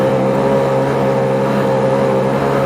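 A Lambretta scooter engine pulls steadily uphill on an open road, a loud, continuous two-stroke drone holding one even pitch throughout with no voices.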